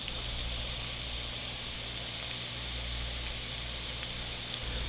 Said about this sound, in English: They're just very nicely, gently frying at low heat.